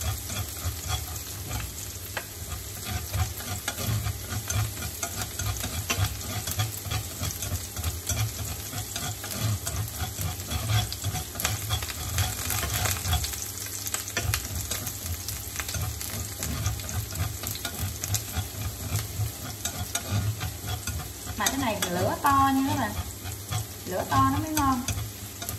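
Squid stir-fried in a pan, a steady loud sizzle with repeated scraping and stirring strokes of the spatula throughout, no talking.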